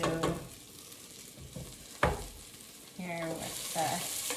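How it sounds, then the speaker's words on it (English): Garlic, ginger and turmeric hit a pan of onions and fry with a steady sizzle, broken by a few stirring scrapes, while a voice speaks briefly nearby. "Now we're gonna put in the garlic and the ginger and the turmeric."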